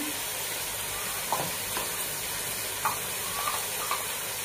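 Tomatoes and spice powders such as coriander frying in a pan, for an egg biryani masala, make a dense, even hiss with a few soft stirring scrapes, close and without speech.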